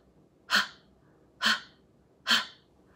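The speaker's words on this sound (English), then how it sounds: "put the cup like a hand a little far away from your mouth, and make little breaths like this" Three short, soft puffs of breath are blown into a cupped hand held in front of the mouth, evenly spaced about a second apart. They are close and quiet, with no speech.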